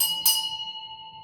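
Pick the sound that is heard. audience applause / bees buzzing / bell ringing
bell ringing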